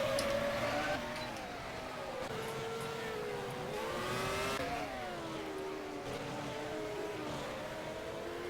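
An F1 race car in the rFactor F1 2010 racing game accelerates off the last corner at the Spanish Grand Prix, its high engine whine sweeping up through successive gear changes, loud and continuous with no talking.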